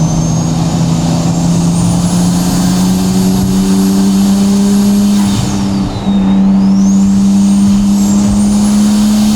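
A tuned, straight-piped Nissan Stagea RS Four S wagon drones steadily inside a tunnel, a loud continuous engine note with a slight pitch rise near the end, close and alone with no voices.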